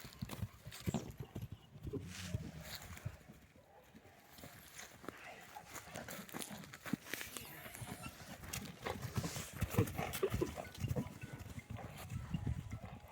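Horse hooves clip-clopping steadily on hard ground at a horse sale, with people talking over a noisy outdoor background throughout.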